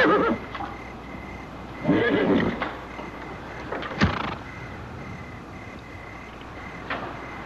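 Horse neighing in an outdoor frontier-style setting, two loud whinnies near the start and a sharp snort midway, with a few softer sounds later and no talk.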